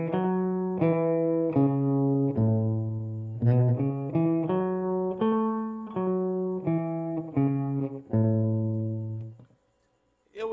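Single notes of a pentatonic scale sound one after another on a keyboard, a clear sustained electronic tone with each note held about a second, close and alone, ending in brief silence.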